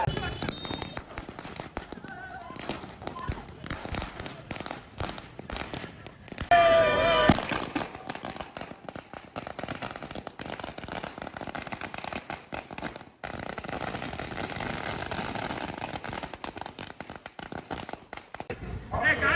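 Diwali firecrackers burst in sharp, repeated bangs and crackles, some close and loud, others in rapid bursts, with people talking in between.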